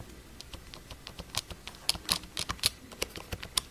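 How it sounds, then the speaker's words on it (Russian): Soft typing on a Logitech Media Keyboard 600, a run of quick, uneven key clicks close by, fairly quiet with a few sharper taps. "Клавиши не очень громкие, не бренчат, не гремят."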